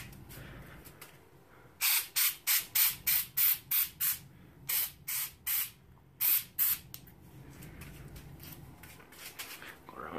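Short bursts of aerosol spray paint coat a 1980 Lesney Matchbox articulated toy truck, about fifteen close, loud hissing puffs in quick rhythmic succession, then quiet.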